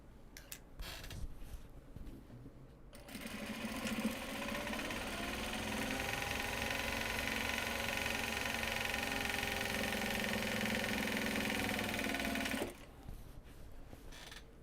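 A sewing machine stitches project bags from Japanese fabric, starting after a quiet opening and running as a steady, close, continuous whir for about nine seconds before stopping abruptly.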